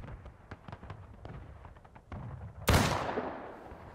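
Distant gunfire in a war video game: faint, scattered crackling pops over the first two seconds, then one loud close blast at about 2.7 s that fades out slowly.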